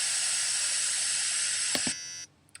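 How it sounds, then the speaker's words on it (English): Program-generated white noise, a flat, loud steady hiss held for about two seconds, then a brief quieter tail before it cuts off. "The first one is generating white noise,"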